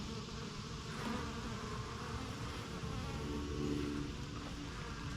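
Honeybees buzz steadily and close by for the whole stretch, a dense continuous drone with no talking over it.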